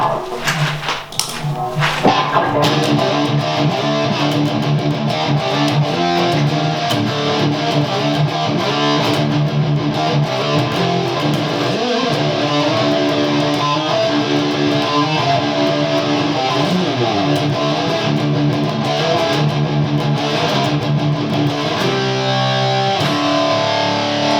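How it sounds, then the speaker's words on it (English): A heavily distorted electric guitar played through a Danelectro FAB Metal distortion pedal plays continuously, with thick, gritty chords and riffs ringing out loud and sustained. "So those are the different ways you could run a distortion pedal."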